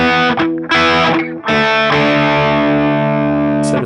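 Thick, heavily distorted electric guitar riff, loud and sustained, with a few chopped chord stabs at the start giving way to a long ringing chord.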